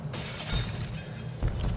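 Glass shattering in XCOM 2 at a train station, a sudden crashing burst of breaking shards with scattered tinkling debris, then a second, smaller impact near the end.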